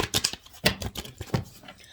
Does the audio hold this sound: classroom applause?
no